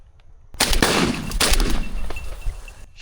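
A side-by-side shotgun fires a loud shot while pigeon hunting in western Georgia, the blast followed by a rumbling echo that slowly fades; close and powerful.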